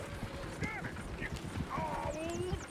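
Horses' hooves clatter in a steady clip-clop in Red Dead Redemption 2, a busy rhythmic patter under voices and a brief whinny.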